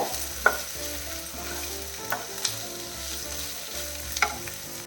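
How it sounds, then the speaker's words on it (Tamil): Marinated chicken curry sizzles in a pan over a medium flame while being stirred, giving a continuous frying hiss broken by several distinct scraping clacks from the spoon, heard up close with no talking. "எல்லாத்தையுமா கிளறி விட்டுடலாம். மீடியம் ஃப்ளேமில் வச்சுக்கோங்க"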